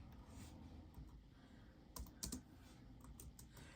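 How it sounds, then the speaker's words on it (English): Quiet, sparse keystrokes on a wireless computer keyboard, with a few clustered clicks near the middle over a low background hum. "I'm using a wireless keyboard and mouse, so you don't see me typing."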